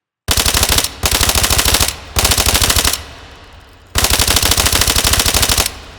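Suppressed QC9 PDW 9mm carbine in the H3VR shooting game fires loud, close full-auto bursts: four rapid strings of muffled shots, each about a second long, separated by short pauses.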